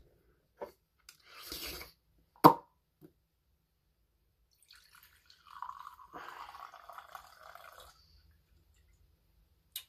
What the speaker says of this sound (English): we're gonna pour up a little glass here with some of this